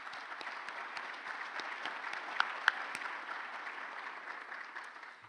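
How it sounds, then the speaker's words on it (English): Steady applause from an audience at a chamber of commerce breakfast event, a round of applause for sponsors; even, moderately distant clapping with no talk, holding at a constant level throughout. "So a round of applause for all of our sponsors,"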